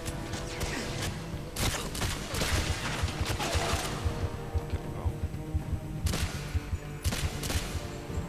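Rapid gunfire from a GoldenEye 007 Reloaded firefight, with dense bursts of automatic shots and sharp cracks repeating across the whole stretch, loud and close, clustering into heavier volleys near the start and again toward the end.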